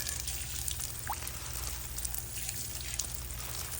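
Water pours in a steady, fairly loud trickle to give an African grey parrot a shower, a continuous splashing stream with no talk over it.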